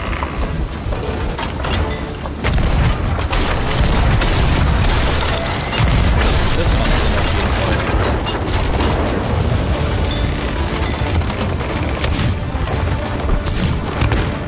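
Dense, continuous booming cannon fire rolls through a chaotic video game naval battle, loud and sustained with overlapping blasts and rumbling.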